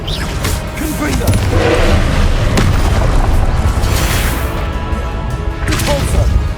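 Confringo fire spell explosions in the video game Hogwarts Legacy, heavy booming blasts and crashes in a loud continuous combat din, with spoken incantations heard over it.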